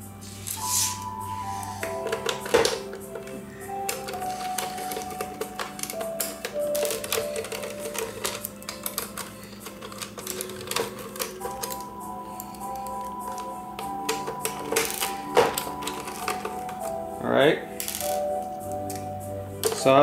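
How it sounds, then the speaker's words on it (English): Screws being removed from the cover of an iRobot Roomba 500/600 series vacuum during disassembly, heard as a run of small close metallic ticks, clicks and taps of a screwdriver and loose screws at irregular intervals, with no talk. "remove this bigger screws here from the cover. So there are 10 of these bigger size screws."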